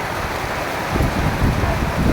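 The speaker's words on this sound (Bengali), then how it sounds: "গাজীপুরে বৃষ্টি হইতেছে" Rain falling steadily in Gazipur, Bangladesh, a dense, continuous hiss of drops with a slight swell in the second half, heard close and fairly loud with no talk.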